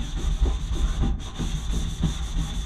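A surface inside a DIY hyperbaric chamber is scrubbed by hand with abrasive borax powder, giving a rough, rhythmic rubbing of repeated back-and-forth strokes, close and fairly loud, with no talking.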